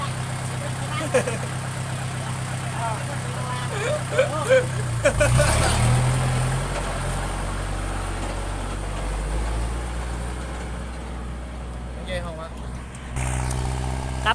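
A tractor with a loud exhaust plowing a cassava field, its engine a close, heavy rumble that idles and revs in uneven surges, while people talk over it.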